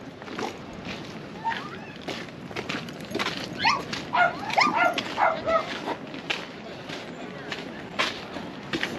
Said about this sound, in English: And lots of dogs, party dogs.